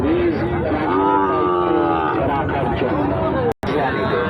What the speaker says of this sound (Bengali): এই পাশটাতে দেখতে পাচ্ছি বেশ কিছু গরু